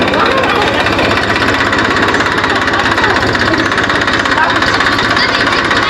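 A tractor engine runs at a steady, loud, close idle, its rapid rhythmic chugging and rattling unbroken for the full few seconds.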